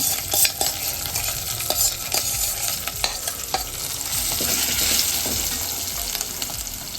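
Smashed eggplant and green chillies fry and get stirred in a hot pan for chutney, a loud continuous sizzle with scraping spoon strokes close by.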